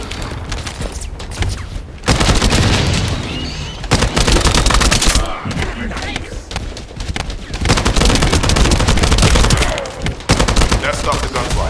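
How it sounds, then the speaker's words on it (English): Video-game gunfire from The First Descendant: dense, loud bursts of automatic weapons fire with sharp cracks and occasional booms, broken by brief pauses, with faint voices now and then beneath the shooting. "That stopped the gunfire."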